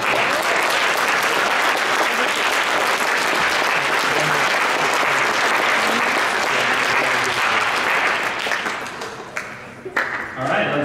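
Audience at a student science fair awards ceremony applauds scholarship winners with sustained, dense, loud clapping that fades near the end.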